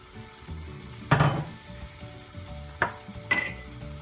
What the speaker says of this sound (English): So, we whack in the red lentils,